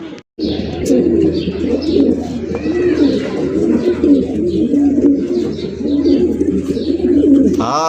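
Pigeons kept in a loft coo steadily and close by, with layered soft throaty calls, a few higher chirps and a dense, continuous murmur.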